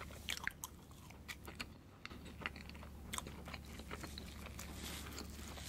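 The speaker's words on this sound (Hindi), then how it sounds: "अभी तो बड़े बड़े बाइट करने लगा" Big bites of cake being eaten: soft, close chewing and mouth sounds with a few small crunchy peaks over a low steady hum.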